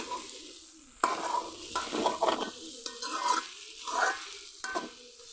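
Pumpkin and raw onions frying in a pan while being stirred, a soft continuous sizzle broken by repeated scraping stirs, close and fairly quiet.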